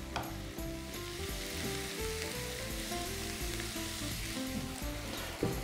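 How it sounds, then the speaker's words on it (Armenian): Salted mushrooms fry in a pan for lasagna, giving a dense, steady sizzle that crackles continuously without a pause, alone and fairly loud. "Սունկը հյութը արագ դուրս է գցում և սկսում է տապակվել։"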